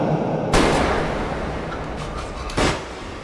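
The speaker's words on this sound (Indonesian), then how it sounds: "dua tembakan Yongab mendarat tepat di dada Chang Ho" Two sharp gunshots ring out in a Korean drama scene, about two seconds apart, each a loud crack with a short echoing tail over a low rumbling backdrop, with no talking.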